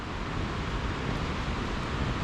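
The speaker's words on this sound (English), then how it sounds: "that's the sound of rain on the roof" Steady, dense hiss of rain drumming on a roof, broad and unbroken, with no voices.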